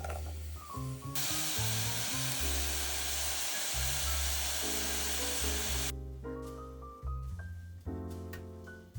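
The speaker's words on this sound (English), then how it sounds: "Add a cup of sliced mushrooms and cook until golden." Sliced mushrooms and minced shallot sautéing in olive oil over medium heat, a steady close sizzle with clinking pan noises and faint background music.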